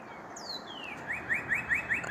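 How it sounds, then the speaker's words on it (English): A small bird chirps in short repeated bright tweets, quiet and fairly close, following a thin sliding whistle at the start, with no talking. "There's a beautiful birdie."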